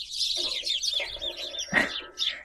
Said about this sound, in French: Plein d'oiseaux qui arrivent.